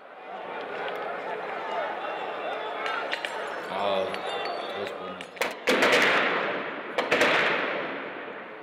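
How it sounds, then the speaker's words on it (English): Gunfire cracks out during street clashes on a bridge near Liberation Square in Cairo, scattered sharp reports at a distance over a steady crowd roar, with a few louder bursts later. "Gunshots can be clearly heard."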